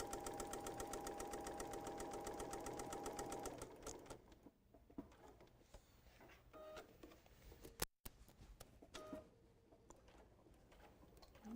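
A sewing machine stitches rapidly with a steady mechanical whir for about four seconds, then stops and leaves quiet handling clicks and small taps nearby.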